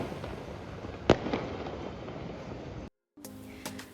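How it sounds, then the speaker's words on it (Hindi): Fireworks go off over the city, seen from a rooftop cafe in Rajasthan, with a single sharp pop standing out above a steady distant crackle and rumble before the sound cuts briefly. "रूफटॉप कैफ़े पे हमने काफ़ी देर एंजॉय किए ये फायर क्रैकर्स"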